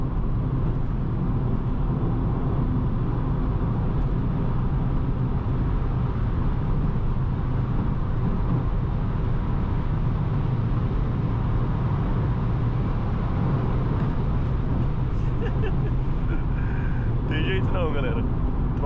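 A Volkswagen Jetta TSI travels at over 200 km/h, with a continuous loud roar of engine, wind and road noise inside the cabin, and someone talking over it.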